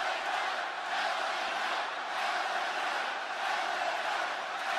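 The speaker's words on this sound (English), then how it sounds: "They're cheering more for LA Knight than you at your own hometown." A distant, steady roar from a large wrestling-arena crowd at WWE SmackDown, a continuous wash of cheering and chanting that swells gently and never breaks into separate voices.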